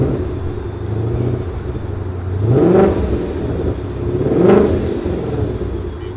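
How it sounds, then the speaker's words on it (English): A brand-new 2020 Shelby GT500 with 760 horsepower and a 7-speed dual clutch idles with a deep rumble, then is revved hard twice, each rev swelling and dropping back, close and loud. "Give it a rev."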